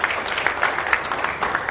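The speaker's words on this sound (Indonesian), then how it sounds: "Tepuk tangan dulu untuk Indonesia" An audience at a Ministry of Law and Human Rights event in Yogyakarta applauds, a dense steady wash of clapping throughout.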